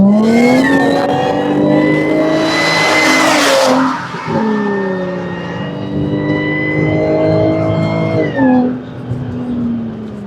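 A loud Jaguar XF V6 engine revs hard at wide open throttle and climbs in pitch, holds a high throttle roar, then drops back before pulling up again, close and continuous.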